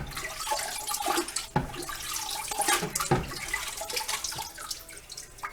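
Water splashes and streams over a carburetor being rinsed clean of vinegar, a steady running flow with irregular splashy surges close by, no talking.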